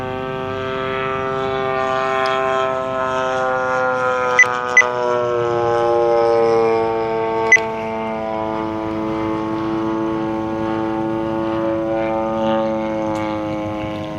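Seagull Models Gilmore Red Lion RC plane with a 35cc engine flying, a steady buzzing drone with rich harmonics whose pitch wavers slightly as it passes, heard continuously from a distance with a few brief beeps.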